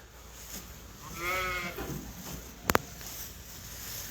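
Lambs born in February bleat on a farm, a single clear wavering bleat in the middle of the clip, followed by a brief sharp double knock, over quiet outdoor background.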